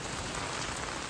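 Heavy monsoon rain pours down in coastal Karnataka, a dense, steady hiss of drops on surfaces, loud and close with no voices.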